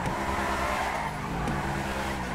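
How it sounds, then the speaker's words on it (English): Car tires screech while drifting in GTA 5: a sustained squeal rides over the roar of the engine, shifting in pitch as the car slides and recovers. "Try some drifting."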